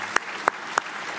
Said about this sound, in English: Could I have a clap for Dina on that one?